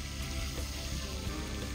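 Rice fries in a pan with a steady, dense sizzle that holds at an even level throughout, close and continuous with no talk over it.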